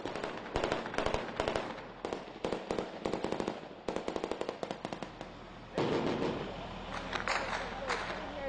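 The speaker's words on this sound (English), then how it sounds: "Now there's more incoming fire." Incoming gunfire during combat in Iraq: loud, rapid bursts of sharp cracks and pops in irregular volleys, with a brief pause before a denser, noisier stretch near the end.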